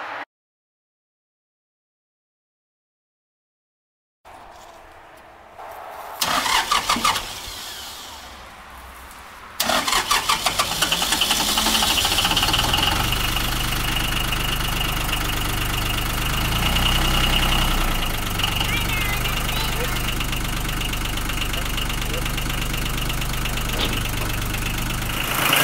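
After silence, a tractor engine cranks and catches, then settles into a steady, loud diesel idle that rumbles on without talk.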